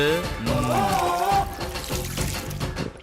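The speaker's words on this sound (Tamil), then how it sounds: "இந்த தண்ணியில கை கால மூஞ்செல்லாம் கழுவுறியே" Water is poured for washing hands, face and feet in a Tamil home drama scene: a steady splashing pour with later uneven trickles, under a tonal voice or background music.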